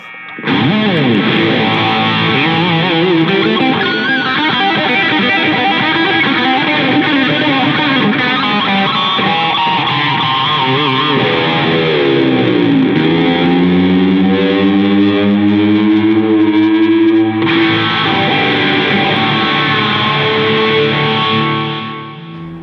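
Heavily distorted electric guitar plays sustained chords and bending lead lines, loud and saturated with a thick, roaring arena rock tone.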